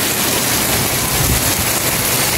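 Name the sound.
rain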